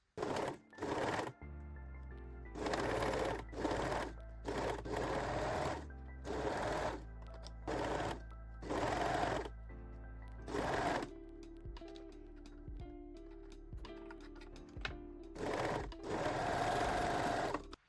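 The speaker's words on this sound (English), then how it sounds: "You can trim the threads now and sew both shoulder seams." A sewing machine runs the shoulder seams of a sporty bra in repeated bursts of fast stitching chatter, starting and stopping many times between quiet gaps.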